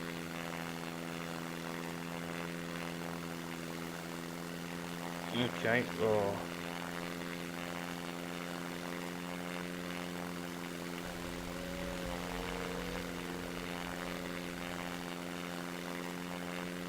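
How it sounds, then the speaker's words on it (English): A steady, droning propeller plane engine in the video game SimplePlanes hums loudly throughout, with brief spoken exclamations and a few sharp clicks partway through. "hopefully hear me over this noisy plane engine"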